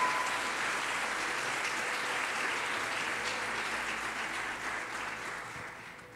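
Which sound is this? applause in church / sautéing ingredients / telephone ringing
applause in church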